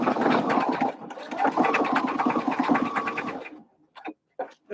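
A sewing machine stitches a bucket hat, running loud and steady for over three seconds with a busy rhythmic whir. It then stops, leaving a few short separate bursts.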